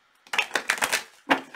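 Rapid riffling bursts of cards being shuffled, a few quick flurries close by with a short pause before a final riffle.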